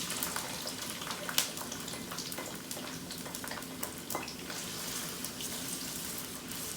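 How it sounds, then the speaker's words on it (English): Onion frying in a pan with spices for a pork curry, a steady close sizzle and crackle with occasional stirring clinks, no one talking. "then just add your onion"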